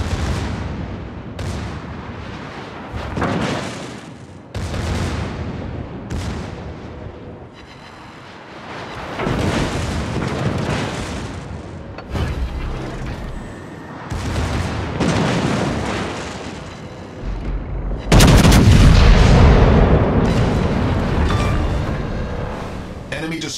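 Naval gunfire and explosions in the World of Warships game, with the Alabama battleship: repeated booming salvos and blasts in bursts, ending in a heavy, loud explosion, while game voice announcements speak over the action.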